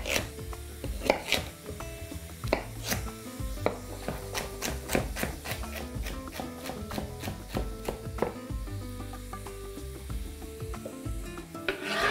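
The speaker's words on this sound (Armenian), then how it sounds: "Մյուս բաղադրիչը նեխուրի ցողունն է, սա էլ ենք կտրատում մանր խորանարդիկների" Celery stalk being chopped into small cubes with a knife on a cutting board, a steady run of close, crisp knife taps, fast and regular, alone with no voices.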